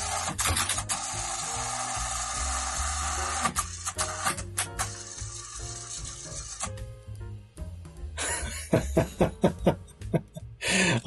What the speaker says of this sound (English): I just wanted to to just show how it sounds when you first turn it on